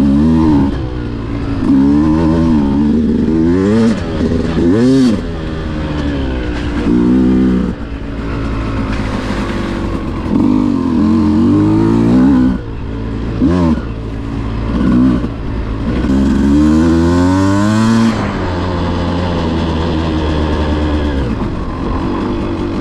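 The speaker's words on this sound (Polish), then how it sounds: "Jadę, dobrze, że mam motocykl" A motorcycle engine revs and accelerates repeatedly, its pitch rising and falling through gear changes, loud and close throughout.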